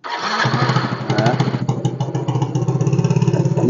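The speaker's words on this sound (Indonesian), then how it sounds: "ini motor hidup." A motorcycle engine starts up close by and settles into a loud, steady, rapid thumping idle, with no talking.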